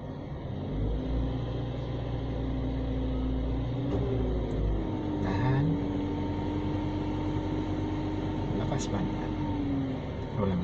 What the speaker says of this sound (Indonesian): Sekarang injak gas lagi.